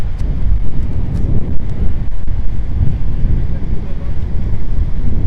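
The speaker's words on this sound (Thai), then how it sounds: "ลมอาจจะแรงหน่อยนะคะ" Strong coastal wind buffets the microphone at a lighthouse by the sea, a loud rumbling roar with constant gusting and no clear voices.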